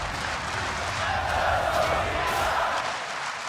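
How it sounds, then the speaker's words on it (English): A large arena crowd cheers and roars at the League of Legends World Championship 2016 match, a broad steady swell of voices that rises in the middle and eases off toward the end. "And the crowd is cheering him on."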